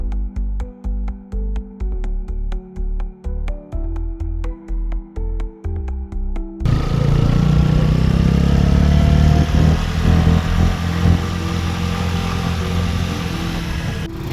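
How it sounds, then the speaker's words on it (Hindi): Motorcycles on the uphill road to the Tungnath winter trek start: a throbbing engine idles in a pulsing rhythm, then cuts to steady, louder riding noise with wind and engine drone, no talk. "हम लोग अपनी बाइकें लेकर के ऊपर पहुंचते हैं"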